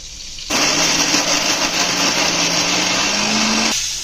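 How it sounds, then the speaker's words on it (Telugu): A mixer grinder whirs continuously for about three seconds, grinding spices with chili powder into a smooth paste for a stuffed eggplant curry, a loud steady motor drone with a slowly rising pitch, starting and stopping abruptly with no talking. "మెత్తగా ఇలా గ్రైండ్ చేసుకోవాలి పేస్ట్లా"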